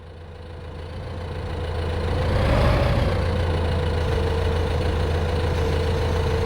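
Tractor engine idling in Farming Simulator 15, a steady low rumble with a droning mid-range tone that swells slightly around halfway through and then holds even and close, with no talking.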